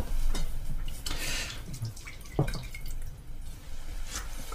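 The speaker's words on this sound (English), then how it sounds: "a natural sponge here which is damp, which I've just wrung the water out of it" Water drips and squishes from a damp natural sponge being wrung out for watercolour painting, a few soft, close drops and splashes at irregular moments over quiet background.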